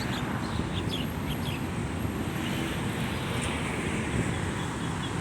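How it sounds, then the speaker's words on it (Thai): Strong wind gusting across open rice paddies near fish ponds on the outskirts of Bangkok in the evening, a steady, loud broadband rush with low rumble, occasional faint bird calls in the background. "ลมแรง"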